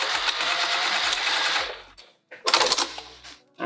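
A sewing machine stitches over a tote bag seam in a long, steady, close-up run, pauses briefly, then gives another short burst of rapid stitching.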